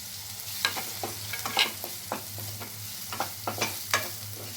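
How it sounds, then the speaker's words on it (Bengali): Chopped onions sizzle in hot oil in a heated pan (a kadai), with repeated scraping stirs of a spoon at an irregular rhythm over a continuous close frying hiss. "এগুলো একটুখানি কয়েক মিনিট নাড়াচাড়া করে ভেজে নেব"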